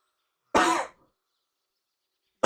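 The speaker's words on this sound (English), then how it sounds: "I just had a really bad cough there." A single hard cough from a man, loud and close, then silence, with the start of another sound cut off at the very end.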